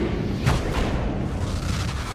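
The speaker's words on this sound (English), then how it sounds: "we hear the iconically dark thuds from the iris" The Stargate iris slams shut in a deep, dark thud, heavy low booms rolling together into a dense rumble that runs steadily for about two seconds before cutting off abruptly.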